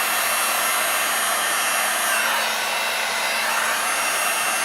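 A heat tool blows steadily over acrylic pour paint mixed with alcohol, giving a constant close whooshing hum like a hair dryer that holds an even level throughout, with no voices.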